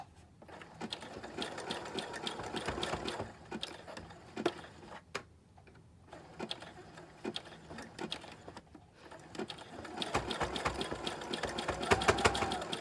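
A sewing machine stitches ruffles in rapid mechanical bursts, with fast ticking and whirring runs that pause and restart, close and fairly quiet, with no talk.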